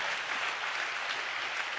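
A congregation at a Christian worship service claps steadily in praise, a dense, continuous wash of applause filling the room at moderate volume with no voices over it.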